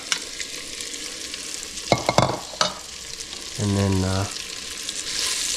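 Steak sizzles and sears in a hot pan with a steady broadband hiss, broken by a few sharp utensil clacks and a brief tonal scrape, while a voice speaks faintly.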